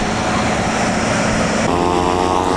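A propeller airplane lands on a relatively short runway, its engine and propeller drone loud and close throughout, steady and rough, with the pitch shifting partway as power changes.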